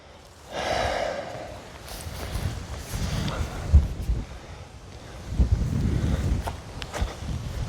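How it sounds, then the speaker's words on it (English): Wind gusts across an open golf course, buffeting with a low rumble and swelling and easing in uneven surges, broken by a few soft breathy puffs and faint knocks. "That wind, man. It's ridiculous."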